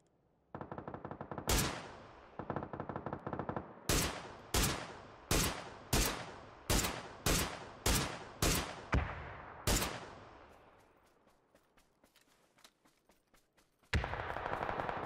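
Gunfire in PUBG, heard as a steady run of about ten loud, evenly spaced single shots, each with a short echoing decay, followed by a quiet lull and then a sudden loud final burst.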